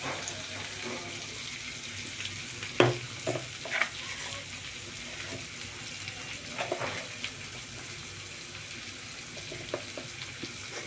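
Chillies fry in a pan with a steady, fairly quiet sizzle, broken by a few sharper clicks and spatters of stirring, with water-like hiss running underneath throughout.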